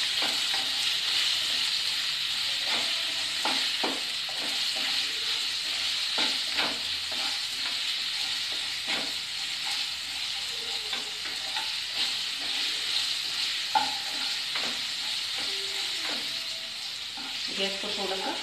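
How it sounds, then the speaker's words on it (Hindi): Red chillies and masala frying in a pan for red chilli sauce, giving a loud continuous sizzle with scattered pops and stirring scrapes throughout, no voices. "इसको थोड़ा सा फ्राई करेंगे ताकि मसाला मिर्च के ऊपर रेड चिली से"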